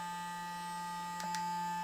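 A Clarisonic Mia 2 sonic facial cleansing brush on its higher speed gives a steady, faint electric whine, with two soft brief clicks near the end; close and quiet, no talking.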